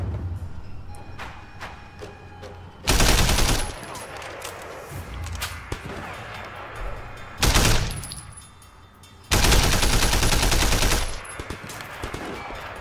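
Gunfire in the open-world action game Sleeping Dogs: bursts of rapid shots in three loud stretches, with quieter game ambience between them and no talking.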